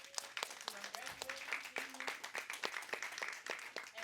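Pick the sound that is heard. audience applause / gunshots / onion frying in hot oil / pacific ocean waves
audience applause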